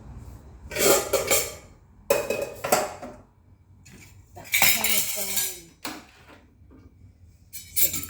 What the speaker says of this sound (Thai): จะไปตักข้าวนะคะ